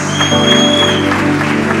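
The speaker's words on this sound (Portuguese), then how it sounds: "Palmas para Jesus." A congregation applauds during a church service, with steady clapping over sustained musical tones for a couple of seconds.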